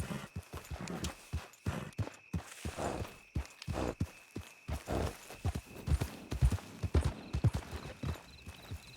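Steady clip-clop of a horse's hooves walking close by in Red Dead Redemption 2, an even plodding rhythm with no talking.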